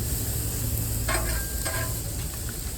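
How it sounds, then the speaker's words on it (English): Chopped yellow, green and red peppers with onions sizzling on a Blackstone griddle top at medium-high heat, a constant close hiss with a few brief scraping clicks from a spatula midway. "we just have some chopped up onions, peppers, yellow, green, and red. We're going to get them down on the griddle top."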